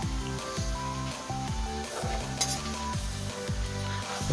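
Pork innards fry in a small pan, a steady sizzle under repeated rhythmic stirring scrapes and clatter, close and moderately quiet.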